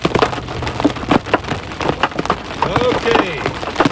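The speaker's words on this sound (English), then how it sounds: "Oh, that's hail. That's definitely hail." Hail drums on an RV-hauling vehicle during a storm, a dense patter of irregular ticks and taps on the body and glass, steady and close, with a voice speaking over part of it.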